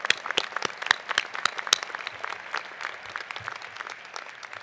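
Commencement crowd at the University of Idaho 2017 winter ceremony clapping in a large hall, a steady rattle of many hands with a few sharper claps standing out, gradually thinning toward the end.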